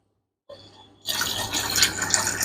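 An aquarium siphon bottle pressed into tank sand starts with a faint gurgle, then water rushes through it in a steady, close, splashing flow.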